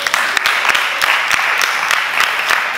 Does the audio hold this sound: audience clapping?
yes